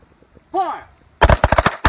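A shouted command, then a rapid string of about six sharp, loud gunshots fired close by at an outdoor shooting range, with brief gaps between the blasts.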